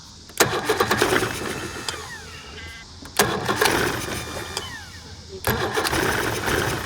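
Old outboard motor on a restored Bass Cat boat, primed with starting fluid, cranks in three loud bursts, each catching briefly into a rough, sputtering run before dropping off.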